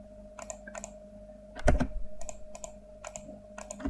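Computer keyboard keys are tapped in short, quick bursts while a password is typed on a Windows Server 2025 machine, with a louder cluster of clicks near the middle over a steady low hum.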